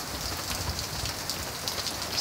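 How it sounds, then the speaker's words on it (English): Steady rain in Florida patters and hisses on surfaces close by, a continuous dense shower with no voices. "It's just raining here."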